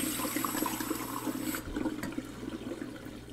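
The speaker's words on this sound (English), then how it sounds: "You're going to need a couple glasses of water to put in this pan." Water pours into a pan with a rushing splash for about a second and a half, then gives way to quieter trickling and dripping sounds nearby.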